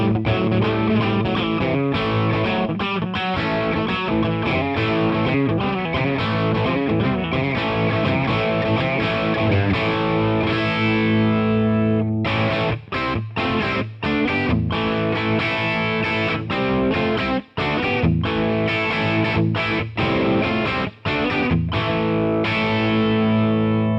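Overdriven electric guitar through a short-decay room-style reverb, playing dense distorted chords and riffs continuously and loudly, with brief choked gaps in the second half.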